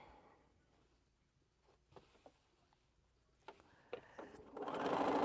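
A sewing machine runs in short bursts stitching quilt square seams, close and fairly quiet, with brief pauses between runs and a louder, steadier stretch of stitching at the end.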